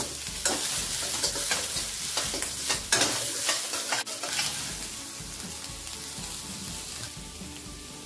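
A ladle stirs onions and chillies frying in a pan, a loud, close, continuous sizzle punctuated by repeated sharp scraping clacks of metal against the pan, with no one speaking.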